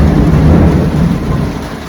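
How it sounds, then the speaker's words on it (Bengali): Heavy rain roars steadily while deep thunder rumbles loudly and close, filling the whole stretch without a break. "ওরে বাবা রে বাজ পড়ছে ধারে বৃষ্টি হচ্ছে আর বাস পড়ছে"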